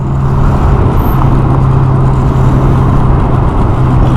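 A red Ferrari 488 GTB on Sathorn Road gives off a loud, steady engine drone mixed with surrounding traffic noise, holding close and constant throughout.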